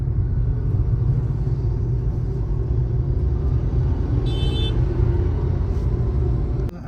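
Cars on a road produce a continuous low rumble of engines and tyres, steady and fairly loud throughout, with a brief high chirp partway through and no voices.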